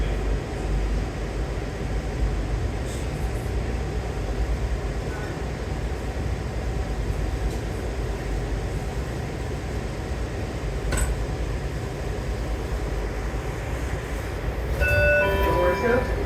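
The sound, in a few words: DC Metro Blue Line train riding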